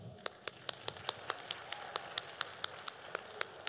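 An audience at a Malaysian science and technology ministry tech talk claps on request, a steady run of about fifteen evenly spaced sharp claps, moderately near, with no talk over them.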